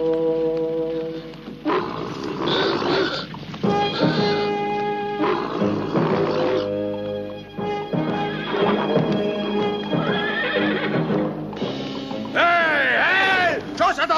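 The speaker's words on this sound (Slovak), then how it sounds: "Nevidíte, kone sa mi splašili?" Frightened horses neigh and whinny repeatedly, loud and close, with clattering hooves and an animated soundtrack mixed underneath.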